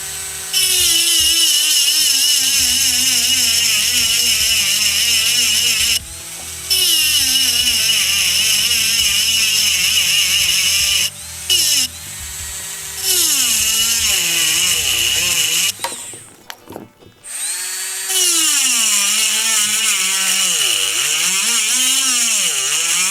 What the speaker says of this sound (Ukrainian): Спробуємо ще бутилку цим самим бором більшим.